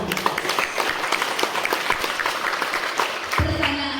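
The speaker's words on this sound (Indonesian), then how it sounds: "Tepuk tangan dulu buat Allah." A burst of applause from a church audience during a Christmas Eve sermon, dense clapping that runs for a few seconds before a voice begins speaking.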